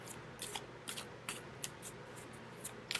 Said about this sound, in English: first I'm going to shuffle the cards